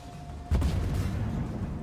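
A TR-85M1 Bizonul tank cannon fires an armour-piercing round in Armored Warfare: one sudden loud boom about halfway in, followed by a heavy rumbling decay.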